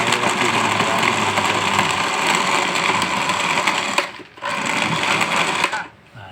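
A juice machine whirs loudly and steadily while blending bananas with a little water, close by, then cuts out briefly twice near the end.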